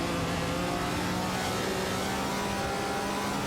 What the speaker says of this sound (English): The race for the top spots is heating up with these classic cars on the track.